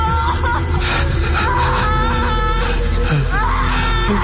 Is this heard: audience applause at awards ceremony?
no